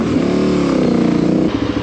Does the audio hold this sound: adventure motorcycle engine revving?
yes